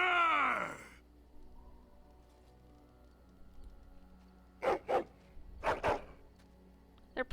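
In the Dragon Age: Origins video game, a dog lets out a loud drawn-out growling groan, then after a quiet pause gives several short huffing growls and barks in quick bursts, close and clear.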